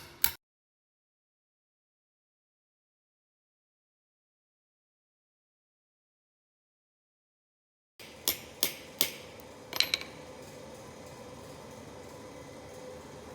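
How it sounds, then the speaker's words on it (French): Hammer tapping on the rotor of a Cazaux Oenoflex 200 pump: one sharp tap at the start, then silence, then four or five close metallic knocks in quick succession over a faint background hum. "Avec un marteau."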